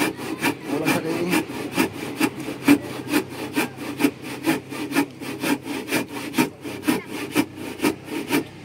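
A hand saw cuts through wood in steady, rhythmic back-and-forth strokes, close by and fairly loud, with no talking.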